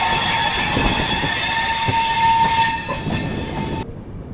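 Farakka Express passenger train rolling out of Barabanki Junction station, a steady loud rumble of wheels and carriages with a sustained tonal hum, cutting off abruptly near the end.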